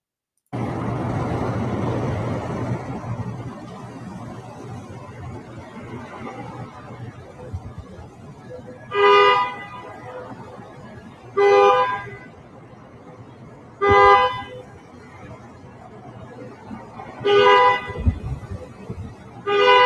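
Driverless Waymo cars at a charging parking lot honk their horns in five short, separate toots spaced a few seconds apart over a steady background rumble.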